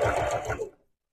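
A sewing machine stitching a denim jacket runs in a short, close, rapid mechanical whir under a second, then stops abruptly into silence.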